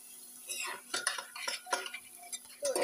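Ginger, garlic and black pepper stirred in a pot with a metal spoon, giving close, repeated clinking scrapes against the pot in an uneven rhythm, with a faint sizzle underneath.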